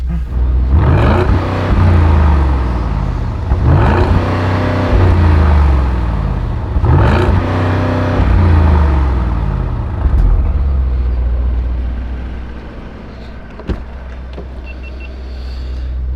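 A 650 hp ABT Audi SQ8 engine revs loudly several times in a steady rhythm over a deep rumbling idle, then settles back to a lower hum.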